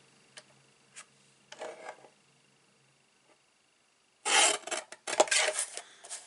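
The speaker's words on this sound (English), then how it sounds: "So I'm going to chop this one in half first." Card stock cut in half with a paper trimmer for a gift bag, giving a few faint short rasps early on, then a louder, longer scraping cut near the end. No one speaks.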